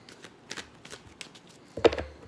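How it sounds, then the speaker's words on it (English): A few quick riffling bursts of tarot cards being shuffled, fairly close, with a louder snap and shuffle near the end. "2 more shuffles after this"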